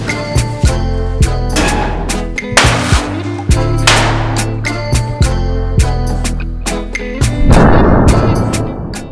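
Firecracker blasts set off against two joined Lego plates indoors, a rapid run of loud sharp bangs and pops at irregular intervals, with a heavier burst near the end and no talking.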